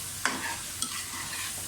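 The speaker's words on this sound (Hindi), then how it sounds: "अच्छी तरह से भुनाई कर लें वेजिटेबल्स की।" Carrots and potatoes sizzle in a pan as they are stir-fried with masala for spicy vegetable rice, with two sharp scrapes of a spoon over a steady frying hiss.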